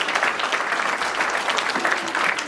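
An audience at a youth orchestra concert-lesson of Artsakh national instruments in Sevkar village applauds the tar player, a dense steady clapping that stays loud and even throughout.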